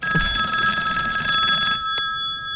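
A telephone bell rings loudly, a sustained metallic trill that stops abruptly, followed by a brief faint click, with no talking.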